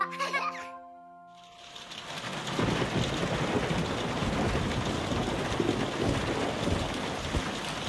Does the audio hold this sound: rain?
yes